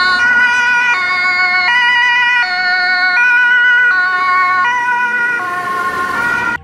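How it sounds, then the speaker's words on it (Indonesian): A toy ambulance gives off an electronic two-tone siren that alternates steadily between high and low pitches. It sounds loud and close throughout, with no talking. "Lihat, ada mobil ambulan."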